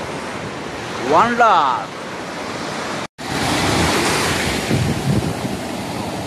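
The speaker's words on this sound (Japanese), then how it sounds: "タタドビーチの綺麗な波打ち際をご堪能ください" Ocean waves break and wash along the sandy shoreline of Tatado Beach in Shimoda, a continuous roaring surf with gusty wind noise on the microphone, while someone briefly speaks near the start.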